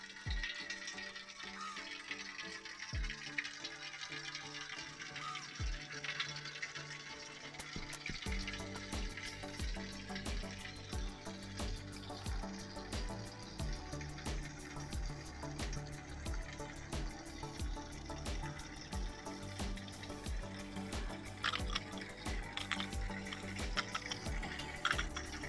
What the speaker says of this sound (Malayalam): ഇതിന് ഈ പൈപ്പിൽ വരുന്ന വെള്ളമായിരുന്നു യഥാർത്ഥ കലക്ക്.